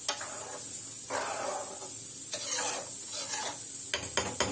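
Vegetable curry (kurma) simmering and sizzling in a pan, a steady close hiss with occasional stirring scrapes and a few sharp clinks near the end.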